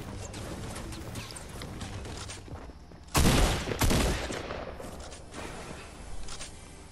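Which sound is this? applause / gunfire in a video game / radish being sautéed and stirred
gunfire in a video game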